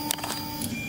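Tevo Tornado 3D printer homing its axes, its stepper motors giving a steady whine with a sustained tone and brief higher-pitched chirps as the carriage moves, close and alone.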